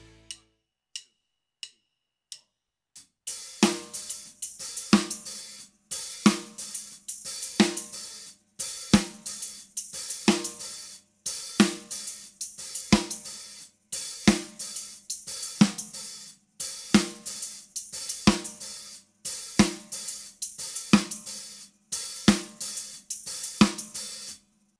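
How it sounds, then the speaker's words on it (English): Hi-hat, snare drum and tambourine are practised in a steady repeating groove from a rock song, crisp close hits and jingles in even bars after a few quiet count-in clicks. "So now let's practice the hands separately between hi-hat, snare drum and tambourine."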